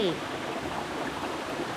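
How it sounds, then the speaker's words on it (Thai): Water from the Chan Ta Then waterfall near Bang Phra, Si Racha in Chon Buri, Thailand rushes as a steady broadband wash under a person talking. "มันเป็นน้ำตกที่ใกล้"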